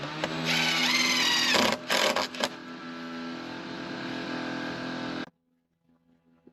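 A power driver runs steadily for about five seconds, screwing timber decking boards into place on a play-area deck build, then cuts off abruptly into quiet.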